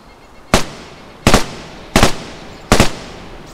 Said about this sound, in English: we have the MP5K being fired at 30 meters away